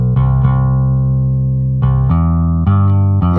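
Bass track from a song, heard without the Ozone Imager 2 stereo side channel; sustained deep bass notes change pitch a few times, loud and continuous with no other sounds.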